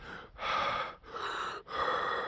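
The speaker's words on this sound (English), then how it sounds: "forgive me, everyone, if I'm out of breath" Heavy, ragged breaths in and out, three long gusts close to the ear with brief pauses between, like someone winded.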